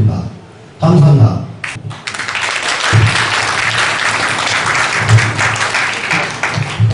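A crowd applauds and cheers at a freshman welcome party held in a hall. The loud, sustained clapping starts just after a presenter's amplified voice and keeps going, with the voice partly heard over it.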